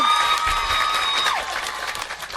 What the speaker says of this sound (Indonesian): Sholat, tepuk tangan dulu